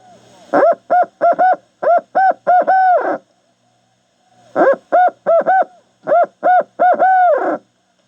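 A friction call imitates a barred owl: two series of rhythmic hoots, each ending in a drawn-out, falling note, separated by a pause.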